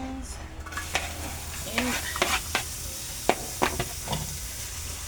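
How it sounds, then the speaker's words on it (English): Onions sizzling in a little oil in a home kitchen pan, with a continuous soft hiss and several crisp stirring scrapes and clicks spaced through it, close and fairly quiet. "And then I'm going to put my onions"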